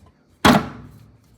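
A single sharp, solid thunk as a used espresso puck is knocked out of the portafilter into the knock drawer of a La Marzocco Linea Mini, close and loud with a short decaying rattle.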